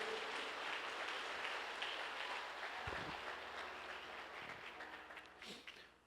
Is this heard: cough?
no